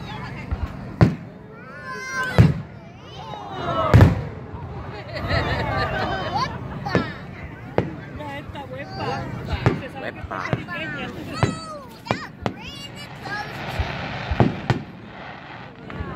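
Fireworks burst at a public show in Nara Park, with repeated sharp booms and crackles at irregular intervals over a steady crowd murmur and occasional voices.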